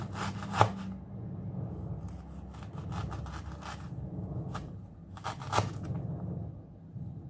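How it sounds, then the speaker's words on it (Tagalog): A knife slices through fresh ginger on a cutting board, with two sharp chops standing out against a steady low kitchen hum and soft scraping in between. "Next is yung luya. I-slice ko lang siya."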